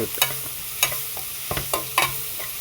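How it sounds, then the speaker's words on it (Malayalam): Green chillies and onion sautéing in a pan for chicken curry, a low sizzle under sharp, close scrapes and clanks of a spoon against the pan in uneven strokes; nobody speaks. "ഞാനിത് പച്ചമുളകും ഉള്ളിയും കൂടെ വഴറ്റുവാണ്"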